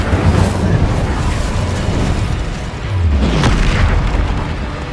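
Spell explosions in Hogwarts Legacy gameplay, loud continuous rumbling booms and blasts layered over each other, with a fresh surge of impact noise in the latter half.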